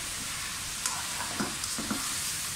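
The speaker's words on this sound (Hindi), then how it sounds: "चिकन को इतना फ्राई करें 2-3 मिनट के लिए इसका कलर चेंज हो जाए।" Chicken pieces fry in a pan for chicken korma, giving a steady close-up sizzle and hiss with a few soft stirring scrapes, and no voices.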